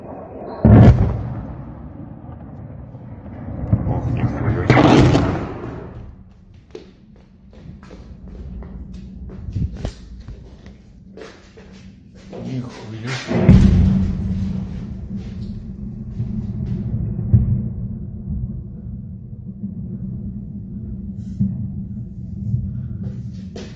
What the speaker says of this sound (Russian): Еще один взрыв.